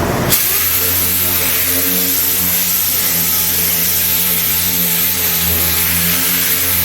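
A dual-action sander with 80-grit paper cuts down Evercoat Superbuild primer on 1953 Ford F100 fenders, a steady loud whirring drone with a low hum that runs continuously throughout, alone without talk.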